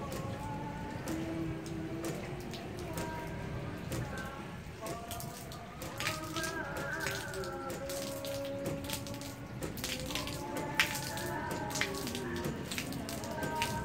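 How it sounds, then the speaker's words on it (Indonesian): Water gushing from a hose fed by a hydram pump nearly 4 meters up, a steady splashing patter and trickle outdoors, moderately near, with occasional faint voices. "Nah, ternyata air mengalir ya."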